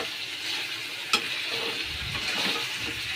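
Mutton and potatoes sautéing in a pan as they are stirred: a continuous, even sizzle heard close up, with one sharp click and soft scraping strokes.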